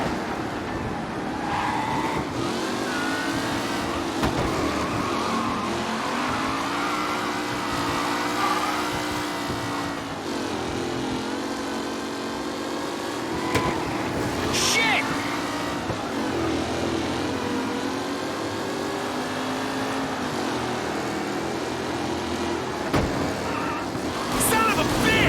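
Race cars roar and rev continuously on a track during a race in Mafia: Definitive Edition, engines loud and sustained with shifting pitch as they pass, alongside music and voices speaking over the action.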